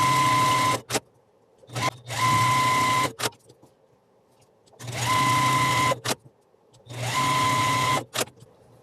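A sewing machine runs a quarter-inch seam around the edge of a fabric square for half-square triangles, stitching in four separate bursts of rapid needle chatter with short quiet pauses between them.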